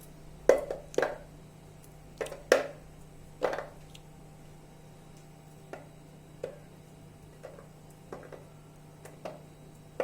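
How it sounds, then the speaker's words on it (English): A knife chops through a block of clear glycerine soap base: a handful of sharp, irregular cuts close by, heaviest at first and then lighter and more spaced out, with no talking. "I will again chop some clear glycerine soap base."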